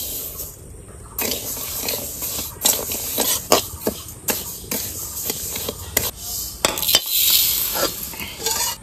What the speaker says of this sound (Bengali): এবার ডালটা একটু ভেজে নিচ্ছি।